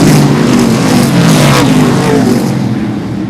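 Modified race cars lap Seekonk Speedway during qualifying, their loud engines roaring close and nose to tail in a sustained, droning blare with a slight fade at the end and no talking.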